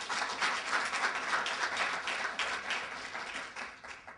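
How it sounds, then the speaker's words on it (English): A conference audience gives a steady round of applause, with dense clapping from many hands that holds at an even level for several seconds before tapering slightly. "I would like us to give a round of applause to Netfa Freeman"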